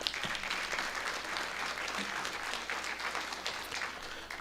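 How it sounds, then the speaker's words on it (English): A round of applause for the Sayre Redskins quiz team at a scholarship challenge, a modest crowd clapping steadily and fairly softly, with a brief sharp clap at the start. "All right, a round of applause for our Sayre Redskins."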